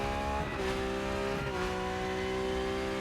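A Porsche race car engine in the racing game Rennsport, a loud continuous whine rising in pitch as it accelerates, briefly dipping at gear changes, with tire noise underneath.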